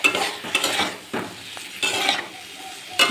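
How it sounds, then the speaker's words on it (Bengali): Fried cauliflower is stirred into an oily spice masala in a pan, bursts of scraping and clinking from the spatula over a quiet sizzle, with no one talking. "এবারে ভাজা ফুলকপিগুলো এর মধ্যে দিয়ে দিচ্ছি, নেড়ে চেড়ে একটু মিশিয়ে নেব।"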